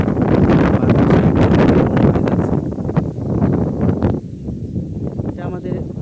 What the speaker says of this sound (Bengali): কত সুন্দর বাতাস বইতেছে।